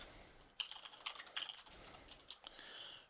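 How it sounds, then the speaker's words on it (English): Quick, irregular keystrokes on a computer keyboard as instructions are typed in, close and fairly quiet with no talk. "I could type in my instructions up here."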